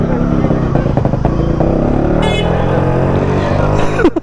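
A motorcycle fitted with an aftermarket silencer chamber, made for RX series bikes, rides along with a loud, steady engine drone up close, with brief high tonal bursts over the constant roar.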